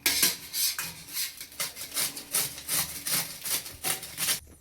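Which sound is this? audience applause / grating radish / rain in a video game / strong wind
grating radish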